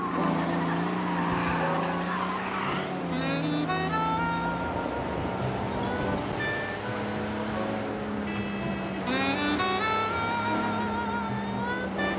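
A car driven recklessly in a video game screeches through long, loud tire squeals with engine roar, the skid sustained across the whole stretch and rising again near the end, with no talking.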